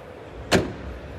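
A single close, solid thud as a door shuts on a 2024 Dacia Spring Cargo, a small electric van with plastic door trims, against a quiet background.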